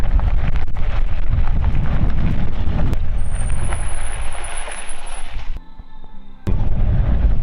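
A truck rumbles past on a forest track, a loud close roar of engine and rolling noise that thins out and briefly drops away before rising again, with a high whine partway through and no talk.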